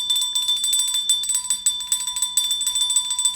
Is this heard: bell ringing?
yes